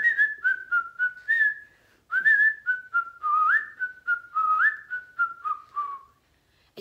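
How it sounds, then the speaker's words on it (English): Someone whistles a cheerful, bouncing melody, close and clear, with short phrases and brief pauses, alone without other sounds. "We've got to whistle a happy tune."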